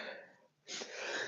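A single stifled sneeze held back by pinching the nose, a soft breathy burst after a brief pause, close to the mic during a golf putting session.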